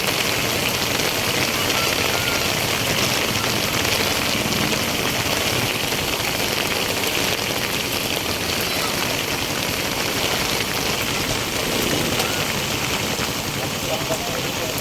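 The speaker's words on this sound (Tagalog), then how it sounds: "Maulan. Nabutan kami ng ulan dito guys." Steady, heavy rain pours down, a dense, even hiss of drops striking surfaces, loud and continuous with no pauses.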